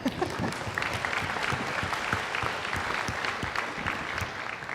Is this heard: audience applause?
yes